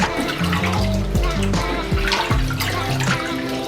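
Cleaned pig chitterlings squeezed by hand, water splashing and dripping into a basin or sink, with irregular gurgles and pours, close and fairly loud.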